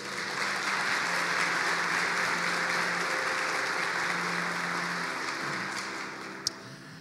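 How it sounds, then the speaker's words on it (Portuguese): A church congregation gives a long, dense round of applause that fills the room steadily for several seconds before tapering off, ending with one sharp knock. "Você pode dar um aplauso a Ele?"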